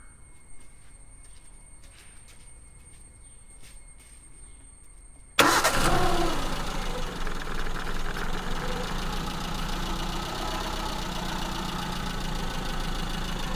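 A Maruti Zen's carburetted engine cranks and catches after a quiet stretch, then settles into a loud, steady idle that runs on close by to the end.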